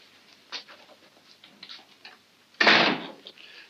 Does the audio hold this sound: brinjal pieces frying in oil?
no